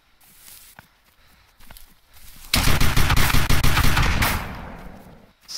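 A rapid automatic burst from a gun in DayZ, loud and close with fast evenly spaced shots lasting about two seconds, preceded by quieter footsteps and movement.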